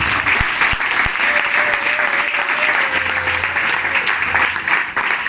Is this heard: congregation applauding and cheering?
yes